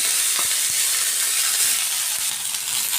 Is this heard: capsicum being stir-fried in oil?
yes